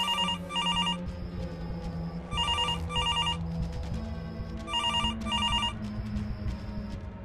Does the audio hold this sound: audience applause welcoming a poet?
no